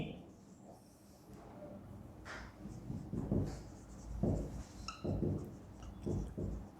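Pen or marker scratching in short strokes on a board or paper during a statistics lesson, tapping and scraping in bursts while someone talks over it.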